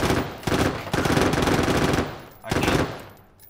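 Rapid automatic gunfire in the video game Deadside, loud and close, in sustained bursts with a brief break near the middle and another burst toward the end.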